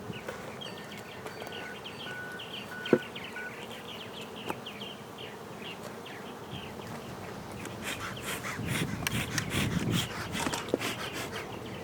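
Honey bees buzz steadily around an outdoor water shutoff box, a continuous insect drone with a few sharp knocks, the hum swelling louder and rougher toward the end.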